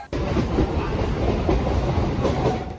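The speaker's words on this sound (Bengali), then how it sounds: "ঝিকঝিক শব্দে ট্রেন এগিয়ে চলছে শিয়ালদা স্টেশনের দিকে" Local commuter train rolling on rails toward Sealdah station, heard from inside the carriage as a close, continuous rumble with rhythmic clickety-clack of the wheels.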